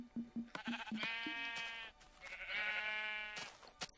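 Sheep in the Minecraft video game bleating repeatedly, several clear wavering calls in quick succession, fairly quiet and alone with no talk.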